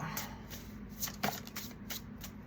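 A deck of oracle cards is shuffled by hand in quick riffling bursts, close and soft, with a faint low hum in the room.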